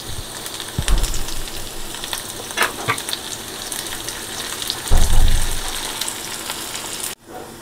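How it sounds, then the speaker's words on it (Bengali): Chopped onion and potato fry in oil in a pan for a vegetable moong dal, a steady close crackle and hiss with occasional stirring thumps, one stronger burst near the end, no voices. "এই কুচো পেঁয়াজটা দিয়ে খুব ভালো করে একটু ভাজা ভাজা করে নেব।"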